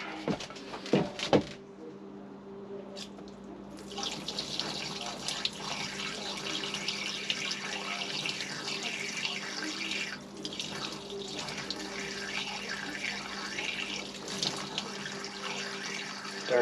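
Water pours steadily into a deep well jet pump during a repair, a continuous splashing gush that starts after a brief quiet stretch with a few knocks and then runs on, close and fairly loud.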